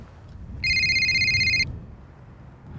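A telephone rings once on a golf course, a bright electronic ringtone burst lasting about a second over faint outdoor background.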